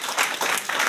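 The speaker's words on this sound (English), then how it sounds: "Yo, give him a round of applause," Audience applause at a Rapid Realty Q&A training session, a steady wash of clapping from a room of people, loud and close throughout without pause.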